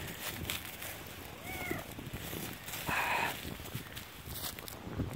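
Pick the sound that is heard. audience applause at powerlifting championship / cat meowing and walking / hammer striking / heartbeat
cat meowing and walking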